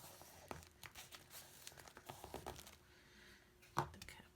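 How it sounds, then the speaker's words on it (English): Paper tabs being folded over by hand, close soft crinkling and rustling with a few sharper creases, faint and intermittent. "I'm going to fold over the tabs here"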